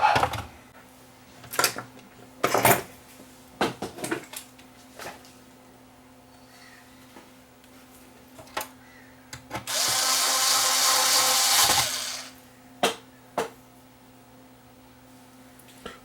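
A power screwdriver drives screws into the chassis of an NHT SA-2 120-watt mono subwoofer amplifier, with several short whirring bursts and one longer run, separated by clicks and handling noises on a quiet bench.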